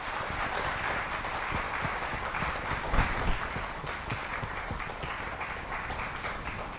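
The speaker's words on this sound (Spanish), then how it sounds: "merece un aplauso para nuestro Dios" Sustained applause fills a church as the congregation claps together, a dense, steady wash of many hands at fairly close range that swells briefly in the middle before holding steady to the end.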